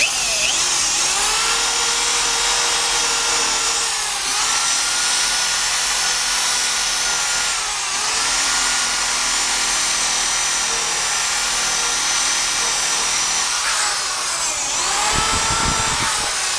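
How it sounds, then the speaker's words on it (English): A Flitz buffing ball spun on a drill polishes rear axle parts of a Kawasaki Ninja 650R, giving a steady high-pitched whine that holds loud and continuous throughout, dipping briefly as the load shifts. "But I have really come to find a lot of good uses for this buffing ball, flitz buffing ball."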